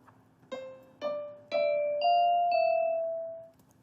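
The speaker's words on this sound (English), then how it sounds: "we can play the first set of notes with the piano, and then we can do the Pretty Bell next" Sonic Pi synth notes ring out one after another, first with a piano sound and then with the Pretty Bell synth, about five tones at half-second spacing, the last bell note sustaining and slowly fading.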